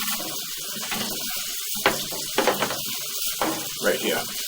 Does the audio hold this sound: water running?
yes